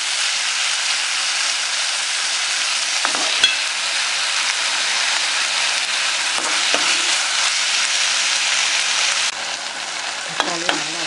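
Steady, loud sizzling of chopped tomatoes frying in a hot pan for palak paneer, continuous hiss with a few brief stirring scrapes near the end.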